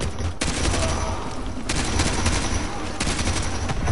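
Rifle fire in Call of Duty: Modern Warfare 2 campaign, a Honey Badger with heavy recoil, rattling off dense sustained bursts that fill the whole stretch, with brief pauses between volleys.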